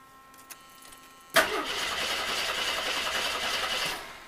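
An AMC 258 inline-six with a slipping distributor cranks briefly, then catches and roars into a loud, steady run that holds before easing off at the end, with no talk over it.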